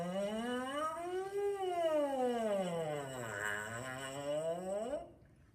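A trombonist's lip buzz, likely on the mouthpiece, slides smoothly up and down like a siren as a warm-up exercise, with a wavering reedy tone that ends abruptly, fairly quiet and alone.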